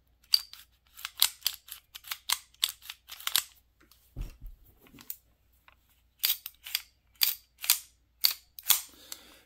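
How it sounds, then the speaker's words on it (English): An Auto Ordnance 45A1 GI-style 1911 pistol has its slide racked repeatedly, sharp metallic clicks and clacks in quick bursts, close and crisp in a quiet room, with a brief pause and thump midway. "I want you to listen to the difference in the slides"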